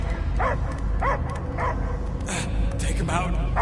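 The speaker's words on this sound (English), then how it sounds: "I hear only barking." A dog barks repeatedly in the Guardians of the Galaxy video game, short yelping barks spaced across the moment over a steady, dense game soundscape.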